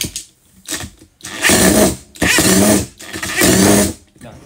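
Hammer-mode power drill running in three loud, close bursts of about a second each, a harsh rattling mechanical grind with brief pauses between.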